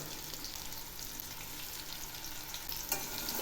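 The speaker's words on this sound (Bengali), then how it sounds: "এই সর্ষে বাটাটাও আমি একটু কষিয়ে নেব, তাহলে কাঁচা গন্ধটা থাকবে না" A paste of white and black mustard seed with poppy seed frying in a pan for shukto, making a steady, dense, close sizzle that continues without a break.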